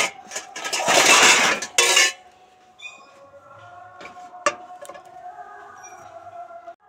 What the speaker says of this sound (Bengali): এখন আমি হাঁড়ি কড়াই থালা বাসনগুলো মেজে রেখে দিই